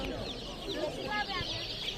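Baby chicks chirp in a busy open-air market in Kırıkkale, high peeping calls layered over crowd chatter and nearby voices.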